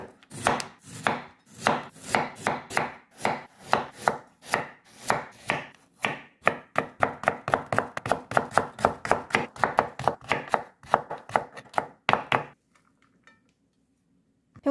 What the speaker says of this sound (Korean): 대파는 어슷하게 썰어줍니다